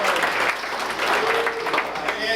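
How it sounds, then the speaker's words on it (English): A comedy club audience breaks into sustained applause, a dense crowd clapping that stays steady and loud for the whole stretch, with a voice briefly heard over it. "round of applause for Chris and Kathy"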